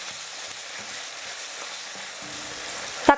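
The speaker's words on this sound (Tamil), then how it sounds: "தக்காளி சேர்த்து ஸ்டவ்வை ஃபுல்லாக வச்சுட்டு 1 நிமிஷம் நல்லா வதக்கினா போதும்" Sliced tomato sautés over a full flame in a pan for chicken kulambu, producing a loud, continuous close sizzle that ends with a short clatter.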